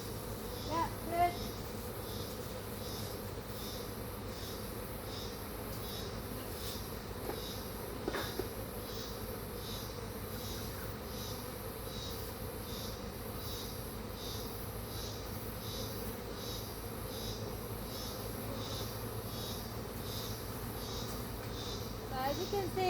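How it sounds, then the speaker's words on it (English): Bees swarm around beehives on a hot day during beekeeping in Australia, a constant insect buzz and hum running under soft voices and babbling talk, with a few nearer passing buzzes. "There's so many bees on the outside."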